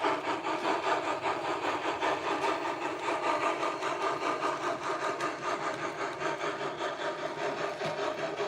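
An HO scale model steam locomotive rolls past on a layout, giving a steady, rhythmic mechanical chuffing and rubbing whir that holds close and fairly loud throughout, with no talking.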